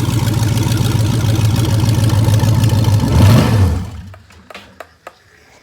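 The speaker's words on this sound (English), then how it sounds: "As you guys can see, it idles." A junkyard car engine idles with a steady, loud mechanical chug for several seconds, then winds down and cuts out, leaving a few faint clicks in near silence.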